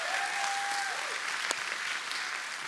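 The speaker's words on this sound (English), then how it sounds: "how about a hand for our band and our 747 worship team?" A church congregation claps for the band and worship team, a dense steady roar of applause filling the room, with a brief whistle-like tone at the start and no speech.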